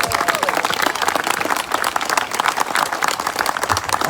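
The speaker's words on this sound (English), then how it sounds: "Let's give another round of applause to the most important people in the room tonight" An audience at a Safe Schools South Florida evening meeting applauds, a dense sustained clapping from a crowd that fills the whole stretch without fading.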